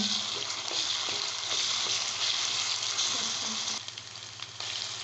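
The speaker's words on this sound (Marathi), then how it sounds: "आपला कांदा छान भाजलेला आहे तेल मोहरी जिरे परतून घेऊ" Onion, mustard seeds and cumin sauté in hot oil for pav bhaji, making a loud, continuous close sizzle with occasional soft stirring scrapes underneath.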